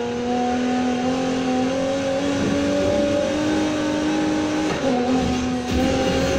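A 2019 Aston Martin DB11 Volante boosts in Need for Speed Heat, its engine holding a loud, sustained high drone with shifting pitch and faint tire noise, steady throughout without talk.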